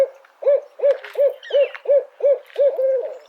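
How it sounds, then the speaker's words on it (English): Barred owl giving its rhythmic hooting call, a series of about eight loud, evenly spaced hoots in quick succession, close and clear with no talk. "Then there's the barred owl, who's concerned about what's cooking for dinner."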